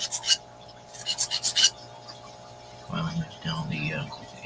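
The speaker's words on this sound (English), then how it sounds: "The sound you're hearing right now is just me filing down" Filing the inside of a model chassis, a metal file rasping in short bursts of quick strokes, followed by someone talking nearby.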